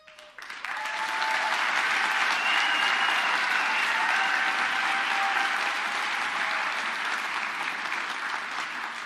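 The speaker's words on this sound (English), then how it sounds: "One more time, please join me in giving them a round of applause." Sustained applause from an audience at a spring graduate convocation, dense clapping rising quickly and holding steady and loud to the end, with faint crowd murmur underneath.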